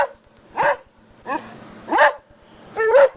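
A puppy barks in four short, sharp, yipping bursts spaced roughly evenly, close and loud against a quiet background.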